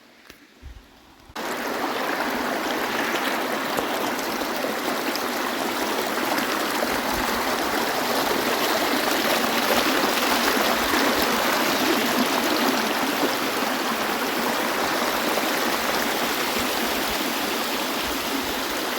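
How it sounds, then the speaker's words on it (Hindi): Siddhkhol waterfall near Kasdol roars as a steady, loud rush of falling water that starts abruptly after a quiet second and continues unbroken, with no voices. "सिद्ध खोल ऐसे कुछ नाम का है में लिखा है सिद्ध खोल जलप्रपात"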